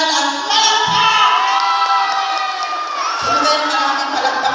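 A crowd at a barangay assembly cheers loudly and continuously, with high-pitched shouts and whoops from children and adults filling the space throughout.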